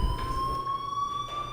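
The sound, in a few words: fire alarm ringing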